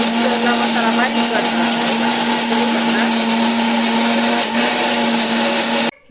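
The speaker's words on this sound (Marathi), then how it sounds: "इथं चालू आहे मिक्सरला मसाला बारीक" A mixer grinder grinding spice masala, a loud, steady high-pitched electric whir running without a break and stopping abruptly at the end.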